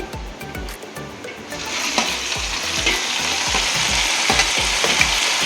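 Tomato pieces frying in a pan for fish biryani, alongside cardamom and cashews, crackle with a loud, continuous sizzle, punctuated by regular low knocks and scrapes from stirring.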